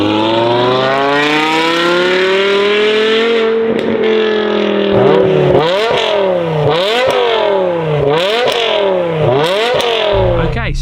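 A BMW V10 M5 Touring with a custom valved exhaust pulls away on a street, its ten-cylinder engine droning smoothly before a series of loud, rapid revs climb and fall repeatedly, rasping and close by.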